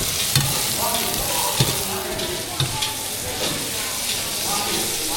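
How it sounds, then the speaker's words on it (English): Loud, constant sizzle of food stir-frying in a hot pan at a Vietnamese buffet in Hanoi, with occasional clanks of stirring and faint voices in the background. "stir frying it"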